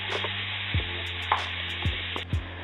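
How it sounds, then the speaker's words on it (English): Ground beef sizzles in a frying pan, a steady close crackle broken by a few soft knocks and scrapes of a utensil. "And I'm just going to fry it until it becomes just a nice light brown."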